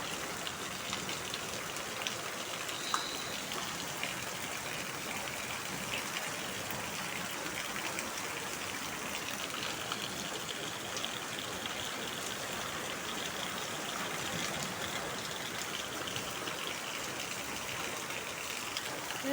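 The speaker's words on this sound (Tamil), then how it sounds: "இப்போ கூட மழை பெஞ்சிட்டே தான் இருக்குது நிற்காம." Heavy rain falls in a dense, steady hiss, unbroken and fairly even in loudness, with scattered drops striking surfaces and no voices.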